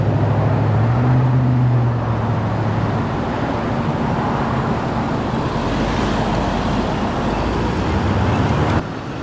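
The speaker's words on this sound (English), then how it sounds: "look at all this traffic" Heavy road traffic at a crosswalk, a continuous wash of passing vehicles with low engine rumble, loud and fairly close, one engine note rising early on.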